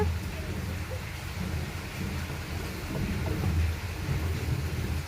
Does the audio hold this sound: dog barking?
no